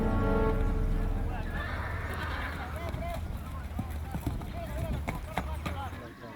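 Horses being prepared for a 320-kilometre ride along a historic liberation route, with hooves clip-clopping and a whinny amid outdoor ambience, a voice talking over them.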